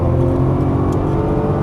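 A Nissan GT-R accelerating under throttle on a track, its engine a loud, steady, close roar that holds throughout.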